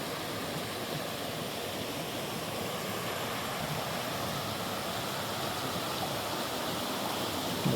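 A flowing creek along a spring hiking trail near Baskins Creek Falls gives a steady, full rushing wash, close and constant, with no one speaking.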